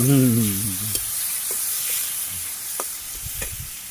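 Spinach fries in hot oil in a pan, a steady close hiss and sizzle with a few faint clicks, while a voice speaks briefly at the start.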